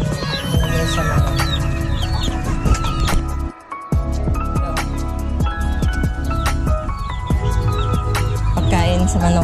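Chickens cluck and chatter steadily among other poultry noises, with a brief lull midway before the busy flock sounds resume.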